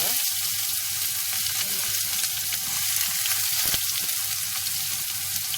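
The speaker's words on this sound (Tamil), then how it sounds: "கடுகு நல்லா பொரிஞ்சதும் கட் பண்ணி வச்சுட்டு வெங்காயத்தையும் சேர்த்துக்கோங்க." Onions frying in hot oil with mustard seeds and asafoetida give a dense, loud, continuous sizzle with faint popping crackle throughout, close up and with no voices.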